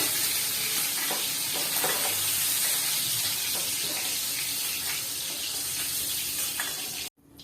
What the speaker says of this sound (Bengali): চিংড়ি মাছগুলো ভাজা হচ্ছে, বেশি ভাজার দরকার নেই, অল্প একটু ভেজে তুলে রাখতে হবে।